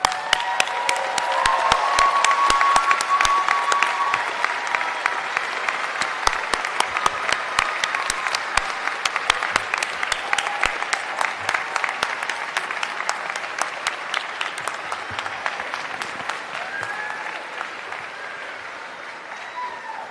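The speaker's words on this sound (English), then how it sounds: "Let's stand and give them a round of applause." Sustained applause from a large audience at the Uniformed Services University of the Health Sciences 2025 commencement ceremony, loud and dense at first, then gradually thinning and softening over twenty seconds.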